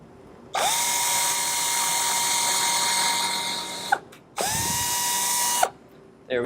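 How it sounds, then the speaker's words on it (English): A power drill bores through a DIY wooden bumblebee house in two bursts, each a loud, sustained high-pitched whine. A short pause separates them, and the second burst is followed by a brief final spin-up. "drill through there and drill through over here."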